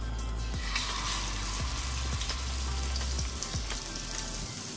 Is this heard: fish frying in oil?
yes